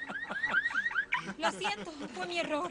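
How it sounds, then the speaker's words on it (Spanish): A car alarm whoops through rising electronic siren tones, while a voice speaks briefly over the alarm. "Accioné la alarma"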